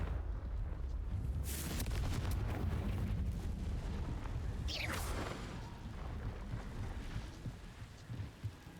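Confringo explosion spell in Hogwarts Legacy: a sharp burst, then a second whooshing blast with a rumbling tail over a constant low roar of game ambience.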